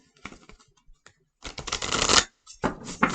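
Tarot cards, a Lord Ganesh deck, being shuffled up close: a few light flicks and taps, then a long riffling burst, a pause, and another quick riffle.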